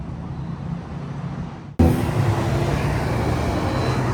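A Ferrari 488 Pista in orange and green drives by on a city street, rising from quiet traffic hum to a sudden loud, steady roar of passing engine and road noise.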